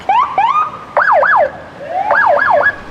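Emergency vehicle sirens blare up close along a route in Wisconsin, mixing rising whoops with rapid warbling yelps, loud and continuous with brief gaps.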